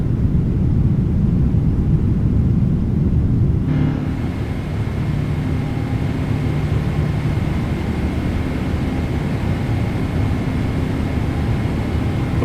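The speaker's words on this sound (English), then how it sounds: "Love the 777. It's such a nice plane to get behind, and the sounds that Boris have made are awesome" Boeing 777-300ER jet engines in a flight simulator, a loud steady broadband roar that continues without a break, its tone shifting slightly partway through as a faint hum enters.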